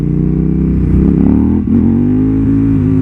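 A KTM 990 SMT supermoto carrying a passenger accelerates hard, its twin-cylinder engine a loud, steady, close-up drone that climbs in pitch, with a brief dip midway before pulling strongly again.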